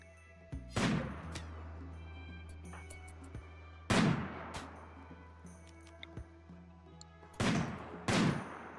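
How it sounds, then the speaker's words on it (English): Rifle fire in the video game The Woad Warriors, three separate sharp shots spaced a few seconds apart, each followed by a short decaying echo, with quiet ambience between them. "Oh, they know they're being fired at now."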